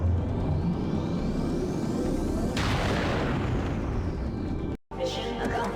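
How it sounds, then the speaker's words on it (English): A phase cannon fires in X-COM: Interceptor, a dense roaring blast of explosive rumble with a rising sweep midway, cut off abruptly before a brief resumption. "The phase cannon does destroy targets."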